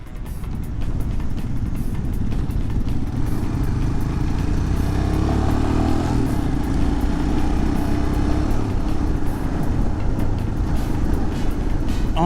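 A Royal Enfield Himalayan motorcycle rides along, its single-cylinder engine giving a steady low rumble mixed with wind rush, close and continuous with no talk.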